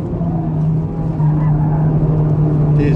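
A Mazda NC Roadster engine drones steadily while cornering on the Tsukuba gymkhana course, a loud in-car hum with light tire noise, and someone speaks briefly.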